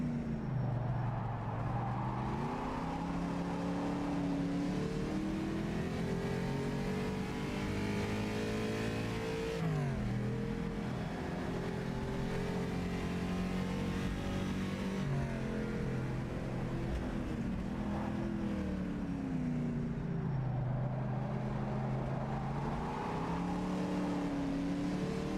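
Race car engine in Carrera Mundial 1954, a racing game at Longford, revving steadily with rising and falling pitch sweeps and gear changes, loud and continuous throughout.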